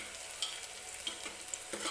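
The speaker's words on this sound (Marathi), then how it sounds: "लसूण सुरुवातीला टाकायचा, म्हणजे फोडणी छान बसते आणि लसूण सुद्धा व्यवस्थित भाजला जातो" Garlic fries in hot oil for a tempering, giving a steady, quiet sizzle with light stirring clicks of a utensil in the pan and no talking.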